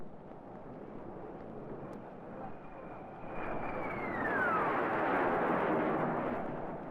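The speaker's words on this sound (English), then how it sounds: "Now we are approaching with the afterburner in operation. Watch the increase in this climb." A jet aircraft roars past in a climb with its afterburner lit, a broad rushing roar that swells louder midway with a descending whine as it passes, heavy wind rumble throughout.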